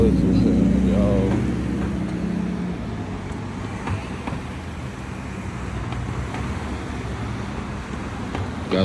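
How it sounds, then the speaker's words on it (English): Road traffic rumbles around an Evolve GTI electric skateboard in city traffic, a steady, loud wash of engine and wind noise that stays constant throughout. "We in traffic right now."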